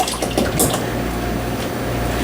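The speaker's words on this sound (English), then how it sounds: "I'm just going to pour in all of the dye" Black fabric dye poured from a bottle while dyeing a plain jean jacket, a steady liquid splash and gurgle lasting a couple of seconds with no voices.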